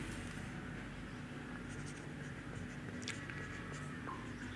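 Faint, scratchy strokes of writing on a board during a physics lesson, sparse and quiet over a low room hum, with no talking.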